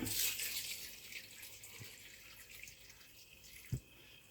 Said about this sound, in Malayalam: നമുക്ക് ഇനി അതിലേക്ക് ആവശ്യത്തിനുള്ള വെള്ളം ഒഴിച്ചു കൊടുക്കാം